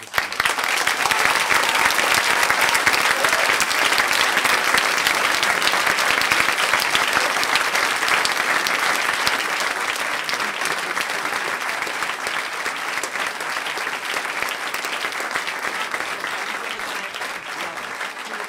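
Sustained applause from a large crowd at an English-language school theatre performance, dense clapping that carries on steadily for nearly twenty seconds and eases slightly toward the end.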